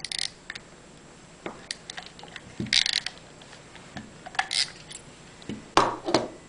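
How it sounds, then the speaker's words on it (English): A ratcheting crimp tool clamps a terminal onto a wire during a waterproof coil upgrade, giving a run of close, sharp clicks and ticks in short bursts over a quiet background. "and I ratchet it down."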